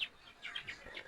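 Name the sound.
30-day-old female quail chicks chirping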